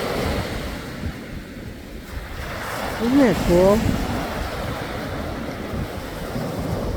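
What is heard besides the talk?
ocean waves breaking on the Atlantic shore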